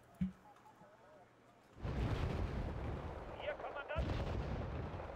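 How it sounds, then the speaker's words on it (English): Auto cannons fire in a tank combat video game: a sharp single blast followed by a sustained heavy roar of rapid firing and rumbling explosions, with faint speech early on. "Probably to like the auto cannons that I heard firing."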